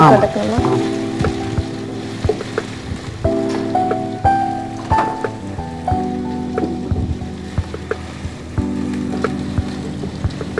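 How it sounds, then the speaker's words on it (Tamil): Onions sautéing in hot oil until golden brown for a prawn noodle dish crackle with a steady sizzle and occasional stirring clatter, partly masked by sustained tonal background music. "இப்போ எண்ணெய் சூடாகிடுத்து வெங்காயத்தை போட்டு வதக்குறோம் இந்த நல்லா கோல்டன் ப்ரௌன் ஆற"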